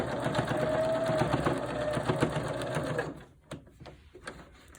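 A sewing machine stitching the last seam of a two-ply hospital mask, a steady fast mechanical whir running for about three seconds, then stopping with a few small clicks and handling sounds up close.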